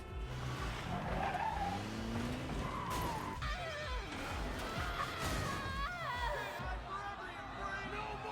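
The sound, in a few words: Jeep skidding in X-Men 97 cartoon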